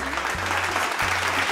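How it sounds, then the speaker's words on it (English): An audience at NashHouse, a live music venue, claps for the artists on stage, sustained, full applause from a crowd heard close and steady, with a low hum running underneath. "Let's give a round of applause to all of these amazing artists on the stage."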